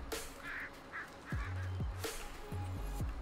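Harsh, repeated crow caws come from the Farming Simulator 19 countryside, several short calls in quick succession over a steady outdoor ambience, moderately close.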